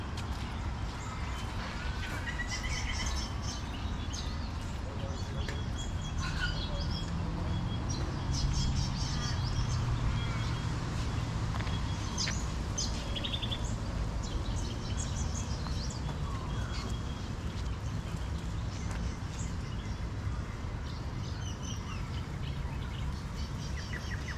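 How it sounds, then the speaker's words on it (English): Native birds at Tomato Lake in Perth, Western Australia call and chirp in scattered bursts over a steady outdoor wash and faint rustling, with some at moderate distance. "These some of the native birds in this area."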